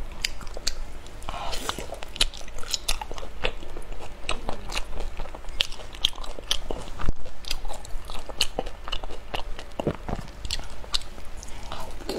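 Close-up crunchy bites and chewing of a taro-filled dessert, with crisp crackles and wet mastication repeating throughout, faint whispered speech occasionally in the background.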